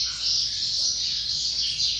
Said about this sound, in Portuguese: Esse é o maravilhoso trinca-ferro